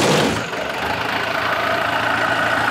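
A turbocharged vehicle idles in a Thai repair garage, a loud steady engine drone with a brief dip just after the start, then an even rumble continuing alone.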